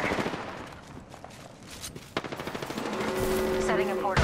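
Video game gunfire in a squad battle, bursts of rapid automatic shots that build into a dense rattling volley, mixed with game sounds and some talk.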